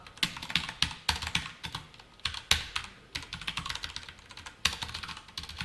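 Typing on a computer keyboard while writing HTML and CSS code: quiet, close clicks in irregular bursts and single taps, with no voices.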